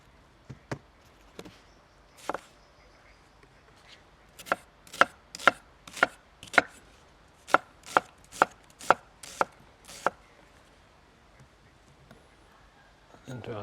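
A knife chops red onion on a board in a burst of sharp, evenly spaced strokes after a few scattered ones, close and crisp. A voice speaks lightly in between.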